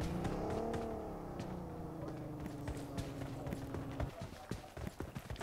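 Enemy vehicle in the game Zoo Squad rolling past with a droning engine and a rhythmic clattering, steady and fairly loud before breaking into scattered thumps near the end.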